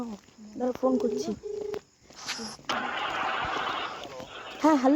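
A phone call being dialed outdoors at dawn near a college crossing, with short electronic tones among nearby voices and a steady engine drone.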